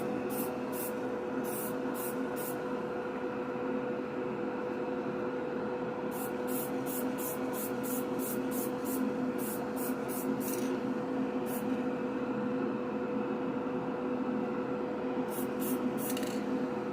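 Primer is sprayed onto a GB-body car shell in light coats: short hissing bursts from a spray gun come in clusters over a steady background hum of the shop.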